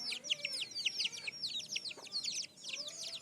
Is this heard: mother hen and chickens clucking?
yes